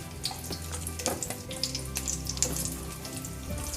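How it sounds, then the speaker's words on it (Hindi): Boiled potatoes frying in a pan of hot oil for dum aloo, a steady close sizzle with small crackles and a few light clinks, no talking. "सारे आलू को इसमें मैं डालकर गोल्डन ब्राउन होने तक फ्राई करेंगे।"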